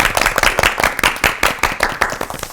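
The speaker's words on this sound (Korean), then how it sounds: "목사님들의 건강과 사역을 위해서 다시 한번 박수를 보내드립니다" An audience applauds pastors in a Korean church-themed television program, with dense, steady clapping from many hands sustained throughout and no talking.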